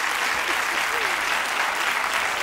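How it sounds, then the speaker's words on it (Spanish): A studio audience at a 1997 Andalusian television interview programme claps steadily, a dense broadband wash of applause sustained throughout at moderate loudness with some faint voices mixed in. "pueden aplaudir si quieren"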